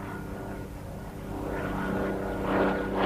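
A Hawker Hurricane, the WWII Royal Air Force eight-gun fighter, drones steadily with its propeller engine, a continuous rumble that swells gradually louder toward the end as the aircraft draws nearer.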